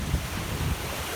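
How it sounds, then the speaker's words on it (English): Ocean waves washing ashore at Sandy Hook beach, a broad rushing surf with wind buffeting the microphone, steady and moderately loud with no voices. "You can never turn your back on the waves."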